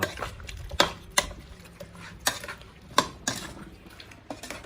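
Duck being stirred in a pot with kaffir lime leaves: a series of sharp utensil knocks and scrapes against the metal at an irregular pace, close and moderately loud, with no voices.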